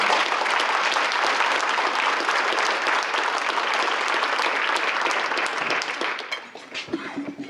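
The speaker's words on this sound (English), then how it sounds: "So I think we owe him a big round of applause." A full room gives a big round of applause at a congressional luncheon, dense and sustained clapping for several seconds before it thins out and fades near the end.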